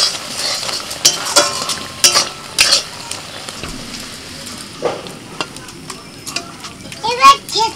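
Star fruit cooked down with jaggery gets roasted spices stirred in, producing loud sizzling and frying with scraping spoon strokes and clinks against the pan, plus brief background voices near the end.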